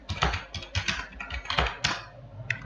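Rapid typing on a computer keyboard at a desk, a quick irregular run of close, crisp key clicks and taps lasting a few seconds with no talking.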